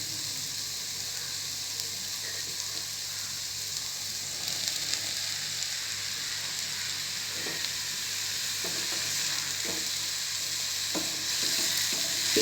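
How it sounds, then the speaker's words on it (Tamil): Chopped mushrooms sauté in a hot pan for a restaurant-style creamy mushroom soup, giving a constant close sizzle and hiss with light scraping stirs scattered throughout. "கட் பண்ணி வச்சிருந்த மஷ்ரூம்லாம் ஆட் பண்ணிக்குவோம்"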